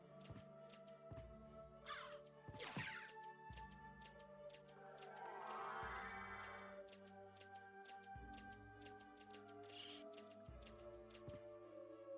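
Crows caw in the video game Castlevania: Symphony of the Night, sharp repeated calls over ticking game music and effects, with several caws spread through the stretch, fairly loud and close.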